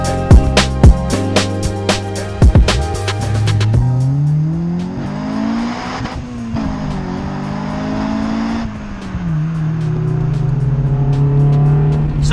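A Honda car engine revs hard and climbs through high RPMs, VTEC engaging around 5,000 RPM toward an 8,000 RPM redline, shifting gears with rising and falling pitch, loud and close from inside the car.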